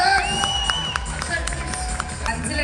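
A crowd at an awards stage event applauds reward winners, with clapping and cheering mixed with music and loud voices in a busy, reverberant hall.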